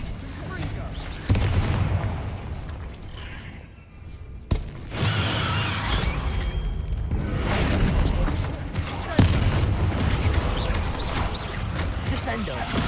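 Confringo fire-blast spell in a video game, heavy booming blasts and crackling impacts bursting repeatedly at close range, with a character speaking between the loud hits.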